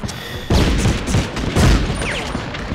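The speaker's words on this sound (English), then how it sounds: "I don't know what's shooting at me." Gunfire in Medal of Honor Underground, set at Monte Cassino, rattles as a loud close burst of rapid shots that starts abruptly, dips, then surges again with heavy booming thuds.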